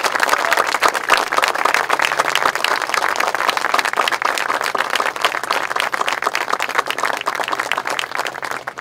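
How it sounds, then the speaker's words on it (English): A Boston audience applauds Mayor Menino, steady dense clapping from a large crowd, loud and continuous with an even rhythm throughout. "let's give Mayor Menino a great round of applause for all the great things he did here in our city"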